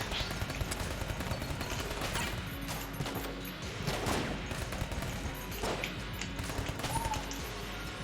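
A silenced Mac 10 fires in Enter the Gungeon: rapid, dense bursts of muffled shots mixed with crashing game effects, continuous and fairly loud throughout.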